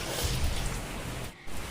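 Heavy rain in Hyderabad falls as a soft, constant hiss that dips briefly near the end before resuming.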